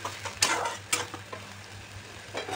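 Onion fries with ginger-garlic paste in a pan for a spinach and potato curry, a steady close sizzle broken by a few scraping stirs of a spoon against the pan.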